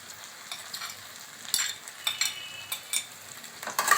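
Garlic paste frying in a pan with onions already browned, a steady broadband sizzle broken by scraping stirs and small spits that grow louder toward the end, close up with no talking.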